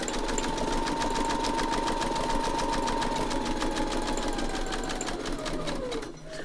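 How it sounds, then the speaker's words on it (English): A sewing machine runs continuously, sewing a backward stitch to lock the threads, with a close, steady mechanical whir and rapid needle rhythm that slows slightly at the end. "I just do a backward stitch to start with, just to lock my threads in."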